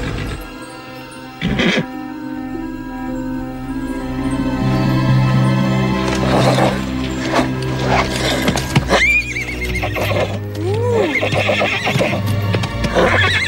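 A horse whinnies loudly with a rising, wavering neigh amid hoof clatter and movement outdoors, several calls spread over the scene.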